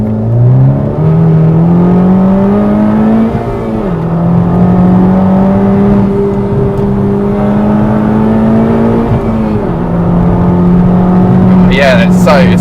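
A modified Honda Civic Type R revs up loudly and repeatedly, a close, strong engine note climbing, hanging, and dropping in pitch between gear changes, with a turbo whoosh near the end.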